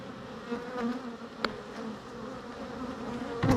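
Honeybees buzz around an opened hive, a steady close swarm drone with a few louder passes near the microphone.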